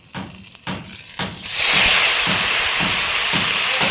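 Dry chilli, five-spice and turmeric hit hot oil with a sudden loud sizzle partway through, settling into a steady bright hiss after a few soft knocks and stirs.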